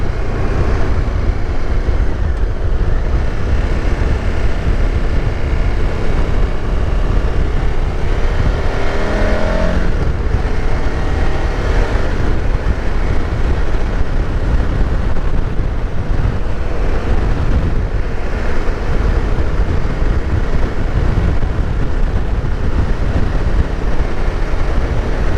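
A 2023 KTM 1290 Super Adventure S motorcycle riding along, its engine droning steadily and loudly for the whole stretch, with wind rush and rising and falling revs and no voices.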